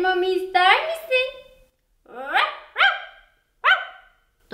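Several cartoonish dog barks in a row in a baby-care video game, close and loud, with short pauses between them.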